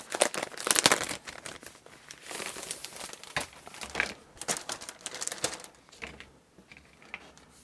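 A resealable plastic record sleeve is handled up close, giving bursts of crisp crinkling and crackling with a few sharp snaps, loudest early on and then tapering off into quieter rustles.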